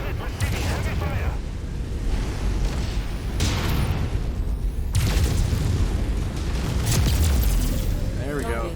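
Heavy weapons fire and explosions from the MechWarrior 5 video game roll in a dense, continuous barrage of deep booms and rumbling blasts, loud and close throughout.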